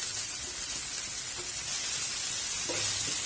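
Capsicum, cabbage, carrot and beans sautéing in a hot pan for egg kothu noodles give off a steady, close hiss of sizzling, broken by a few faint scrapes and stirring knocks.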